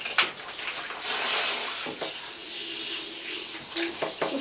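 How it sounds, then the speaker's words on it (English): Warm water pours and splashes steadily over a guinea pig during a bath, a close, continuous running-water hiss with a few small splashes throughout. "So now we'll just get to cover her in nice warm water."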